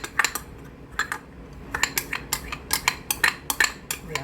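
A utensil scrapes and clinks against a bowl while chicken breast is mixed for sweet and sour chicken, with irregular sharp metallic taps spaced unevenly, close and fairly quiet, and no talking.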